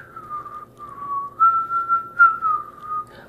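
A single person whistles a wandering tune alone, clear and close, the pitch gliding through a few phrases.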